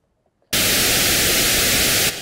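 Filtered white noise from a Haken Continuum synthesizer, a steady broadband hiss with a faint notch, starting abruptly after half a second of silence and holding loud and even until it drops slightly near the end.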